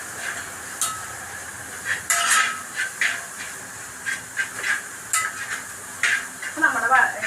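Crushed onions sautéing in hot oil in a home kitchen give a quiet, steady sizzle and hiss, broken by soft intermittent scrapes of stirring, with no voices.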